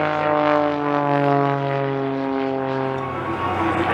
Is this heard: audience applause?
no